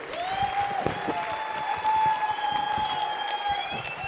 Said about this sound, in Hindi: एक जोरदार तालियां सभी के लिए।